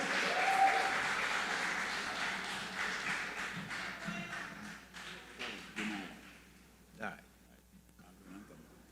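An audience claps in sustained applause for a junior calypso singer at a prelims show, the clapping dense at first and then thinning out and fading toward the end, with a voice speaking over it.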